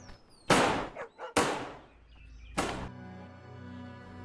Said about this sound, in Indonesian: Tiba-tiba terdengar suara tembakan dari ruang istirahat.